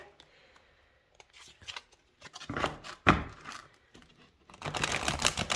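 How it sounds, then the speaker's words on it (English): A tarot card deck with a laminated finish is riffle shuffled in a few soft bursts of quick flutter and clatter, near and fairly quiet, separated by brief pauses. "We're gonna riffle shuffle."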